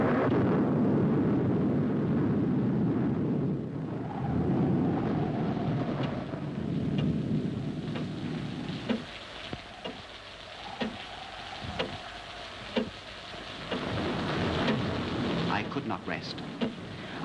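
A fierce, fast-rising night storm in a 1950 film of The Fall of the House of Usher: a dense roar of wind and rain with low rumbling swells and scattered sharp cracks, sustained throughout at moderate loudness.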